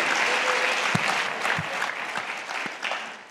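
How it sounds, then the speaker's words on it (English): A leadership-training audience gives a round of applause, a full steady clatter of clapping that gradually thins over a few seconds. "give him a round of applause"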